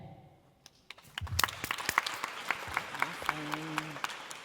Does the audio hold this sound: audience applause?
yes